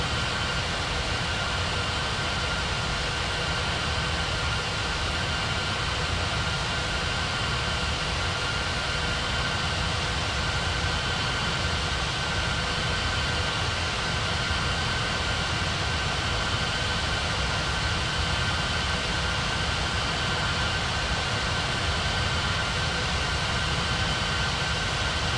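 A video game airliner jet takes off, a steady, loud roar of jet engine noise holding constant throughout with no voices over it.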